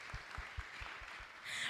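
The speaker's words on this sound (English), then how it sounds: "So a clap for all of you guys." Graduates at a Teach2Give graduation ceremony clap briefly and faintly, with a few soft, evenly spaced claps heard from a distance.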